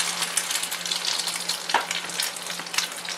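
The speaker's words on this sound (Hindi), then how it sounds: "आपने इनको शैलो फ्राई करना है" Chicken shami kababs shallow-fry in a pan with a dense, steady crackling sizzle, close and loud, with scattered sharper pops throughout.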